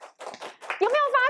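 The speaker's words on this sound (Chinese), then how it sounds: "来给他掌声鼓励一下" A brief burst of scattered clapping from a class at Yong'an Elementary School in Taipei, followed closely by children's voices talking.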